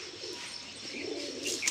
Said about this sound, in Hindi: तो ये तीन कबूतर यहाँ बैठे हैं और दो या तीन कबूतर ऊपर बैठे भाई।